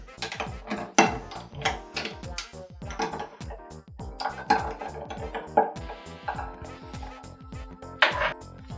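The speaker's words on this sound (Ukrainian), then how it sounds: "Трохи перемішую." Spoon stirring a Maraschino liqueur highball topped with soda water, giving a run of clinks and scrapes against glass with ice, close and moderately loud, with a brief rattle of glassware near the end.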